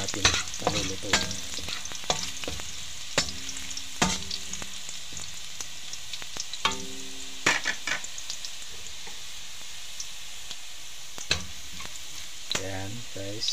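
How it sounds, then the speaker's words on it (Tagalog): Chopped garlic sizzles and browns in a pan for a Vigan-style miki noodle soup, with a steady fry hiss broken by repeated sharp clinks and scrapes of a utensil stirring against the pan. "So itong bawang, pag-brownin lang natin ng konti para lumasa yung bawang dun sa sabaw"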